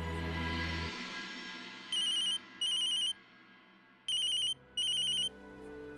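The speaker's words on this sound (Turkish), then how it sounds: "Madu telefonunu açmıyor." A telephone rings in repeated electronic bursts, four rings in two pairs, with no one answering, over faint background room sound.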